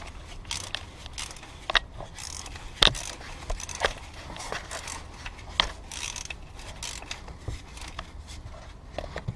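A ratchet tightens a gearbox drain plug fitted with a new seal, producing quick runs of close, light mechanical clicks with occasional sharper ticks and small handling noises between them.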